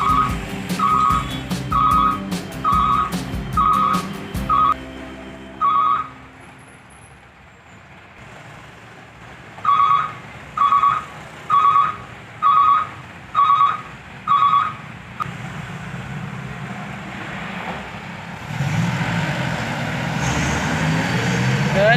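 A truck pulls away at a sand delivery, its engine rumbling under a run of regular short beeps, then idling and fading before a louder rumble swells at the end.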